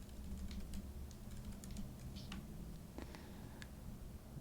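Soft keystrokes tap on a computer keyboard in a quiet room, scattered light clicks over a low steady hum.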